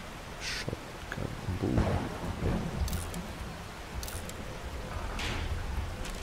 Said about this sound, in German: Ja, regnet. Und laut ist es.